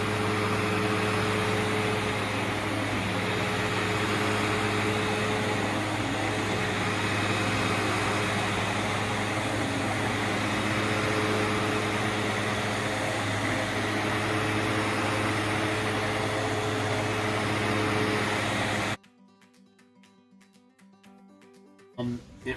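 A Sebo Duo carpet cleaning machine runs with a steady, even whir and broadband hiss for about nineteen seconds, then cuts off suddenly, leaving near silence.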